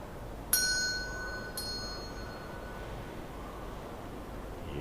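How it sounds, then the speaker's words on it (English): Two bright, ringing bell strikes about a second apart, inside the Henry Ford Museum, each tone decaying slowly over a low, steady hall hum; fairly faint with no voices. "I don't know what the bell does, but it's a bell"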